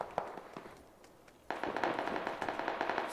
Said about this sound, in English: It's just like I hear gunshots everywhere.